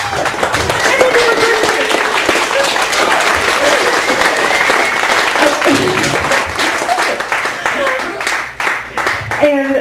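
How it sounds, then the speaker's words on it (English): Audience applause at a poetry open mic in a Chicago cafe gallery, a dense, steady burst of many hands clapping that fills the room and fades slightly near the end, with a few voices under it. "you've got excessive clapping for the next person I was going to call up, Mr. Bill Euro."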